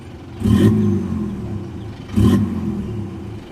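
Car engine fitted with an electric throttle controller box, revved twice in quick succession, each rev a loud rising burst that settles back to a low idle rumble, with no talk.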